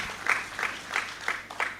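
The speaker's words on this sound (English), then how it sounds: "I think he deserves, definitely, a round of applause again" At a leadership conference, a small audience gives a sparse round of applause, faint and distant, with a few distinct claps spaced at a steady, slow rhythm.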